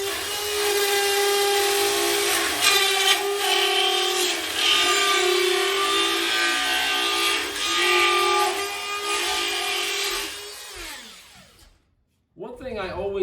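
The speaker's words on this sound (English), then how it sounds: "I'm gonna put the router on this mark into the box, go to the edge of the box, and then jump over that edge, and then route it around the outside" A router cuts drywall around an electrical box in a basement wall, a steady high-pitched whining rasp running for about ten seconds before winding down and stopping, followed by a brief burst of noise.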